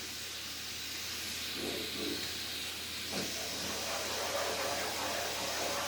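Steady broadband hiss of steam escaping from a pressure cooker on the stove while cooking kidney beans and rice, continuous and fairly loud, with faint background voices and occasional soft clatter.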